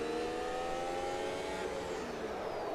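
A race car engine drones steadily at high revs in Automobilista 2, a continuous buzzing whine with faint pitch shifts, sounding like game audio.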